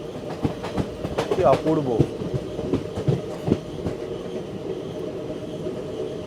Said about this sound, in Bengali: এই সাউথের ট্রেন জার্নি অসাধারণ হচ্ছে।